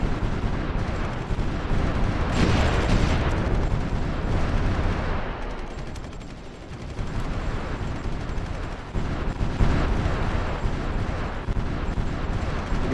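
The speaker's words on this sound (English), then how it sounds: "Now that's artillery actually over there." Rumbling artillery fire from the Supreme Ruler Ultimate strategy game, booming continuously with heavier blasts around the start and middle, dense and loud throughout with no talking.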